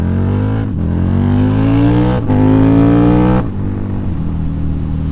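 A motorcycle engine revs hard and loud up through the gears, pitch climbing then dropping sharply at each of two quick shifts before settling into a lower steady drone.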